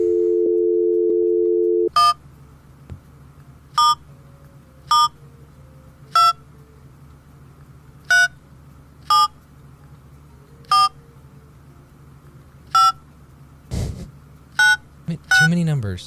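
A telephone is fired up for a call: a steady dial tone plays briefly, then roughly a dozen short keypad dialing tones follow at an uneven pace, with a faint background hum between them.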